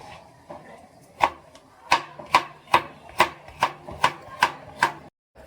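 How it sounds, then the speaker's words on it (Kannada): Coconut being chopped into small pieces on a board, about a dozen crisp knife strikes in a quickening, fairly regular rhythm, close and distinct, ending in silence. "ಕಾಯಿನ ಈ ಥರ ಕಟ್ ಮಾಡಿ ಸಣ್ಣ ಸಣ್ಣದಾಗಿ ಜಾರಿಗೆ ಹಾಕಬೇಕು"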